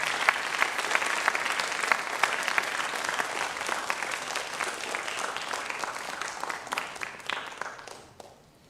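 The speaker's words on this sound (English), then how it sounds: "And Mr. Locke and Mr. Masri, can we give them all a big round of applause, please?" A crowd at a junior school graduation gives sustained applause, dense clapping with a few sharper near claps, continuing steadily before tapering off and fading out in the final second.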